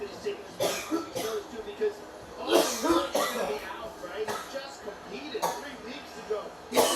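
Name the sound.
cough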